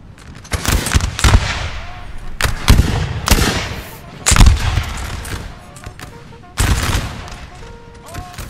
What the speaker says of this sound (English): Time for a nasty volley.